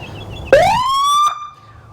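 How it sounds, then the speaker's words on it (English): A 2020 Harley-Davidson police motorcycle's loud electronic siren whoops upward from low to high and holds a steady wail for under a second before cutting off, close and piercing. "That gives you the siren. I'm going to show you what that sounds like."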